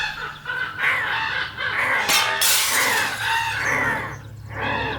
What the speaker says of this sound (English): Glass exploded from the window and door, and they poured inside, cawing in the same beat.